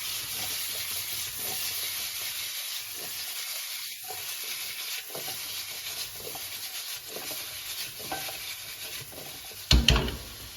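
Beef stir fry sizzling in a hot pan, a continuous close frying hiss with soft stirring rubs and a sharp clatter of utensil against the pan near the end, no voices.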